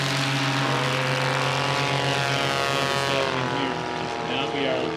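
A small STOL airplane at a takeoff competition, its propeller engine droning loud and steady with a strong low hum throughout, nearby and continuous.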